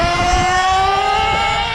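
A vintage HPI Nitro MT2 G.30 nitro RC monster truck engine screams at high revs, its loud buzzing whine holding steady and rising slightly in pitch, with no voices.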